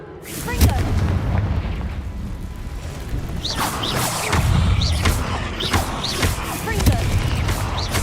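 Repeated Confringo fire-spell blasts in the Hogwarts Legacy video game, a series of loud booming explosions with rumbling low-end bursts roughly every second or two, mixed with game effects and a voice speaking over them.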